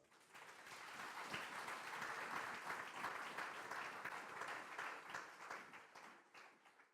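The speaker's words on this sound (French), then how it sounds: "Et applaudissez pour la gloire de notre Seigneur" A church congregation claps steadily for several seconds, a dense wash of hand claps that swells and then slowly thins out toward the end.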